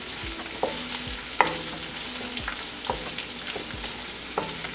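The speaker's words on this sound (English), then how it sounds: "we'll add in our ginger and garlic paste. Saute it for another 30 seconds." Fresh-ground ginger and garlic paste sautéing for a vegetable jalfrezi curry, a low sizzle under repeated spatula scrapes and taps against the pan, close and fairly quiet, no voices.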